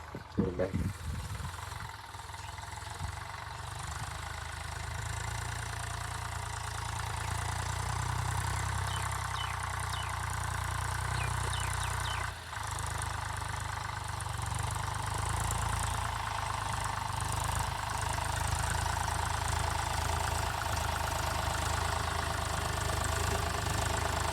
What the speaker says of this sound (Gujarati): તો આપણે ટ્રેક્ટર ચાલુ કરી દીધું છેડવાનું.